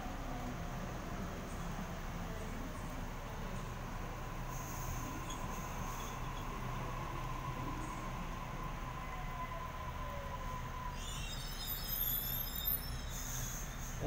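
A Sydney train pulls into Toongabbie station, a steady low rumble of wheels and a long whining tone building through the arrival, with a brief metallic squeal near the end, heard at moderate distance.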